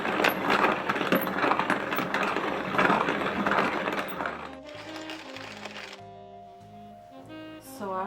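A vintage hand-cranked coffee grinder crushes beans with a rough, steady rasping churn for about four seconds, then the grinding fades and clear melodic tones take over.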